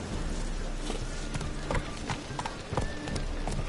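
Roach, the horse in The Witcher 3, gallops with rapid, rhythmic hoofbeats. The clip-clop rolls on continuously at close range over a dense layer of game ambience.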